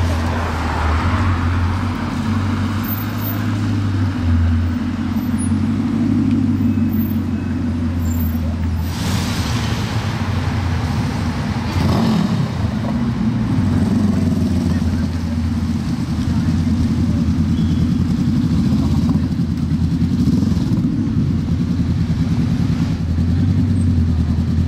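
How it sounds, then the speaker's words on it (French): A Bugatti Chiron supercar moves along the Avenue Montaigne in Paris amid steady city traffic, a low rumbling engine drone that swells and recedes under a constant roar of street noise. "ils voient la Chiron là qui arrive"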